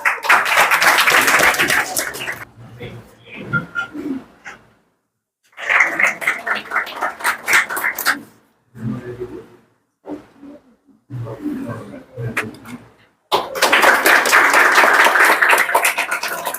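Bursts of applause and cheering from a crowd at a monthly reward and recognition ceremony come in several waves, separated by quieter stretches with murmurs and a voice.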